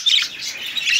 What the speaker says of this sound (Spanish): Son 10 pericos más uno de regalo que ya les voy a mostrar.